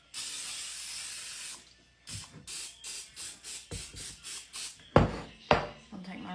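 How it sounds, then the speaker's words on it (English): Cooking spray hisses into a mixing bowl during bread baking: one long continuous spray, then a run of short rhythmic bursts and a couple of louder final puffs, close and alone. "I'm going to spray my bowl."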